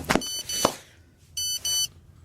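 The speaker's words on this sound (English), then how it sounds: "Yeah, that's your phone." A mobile phone gives two short beep bursts at the end, after a couple of louder broadband sounds in a kitchen with the oven nearby; no one speaks over it.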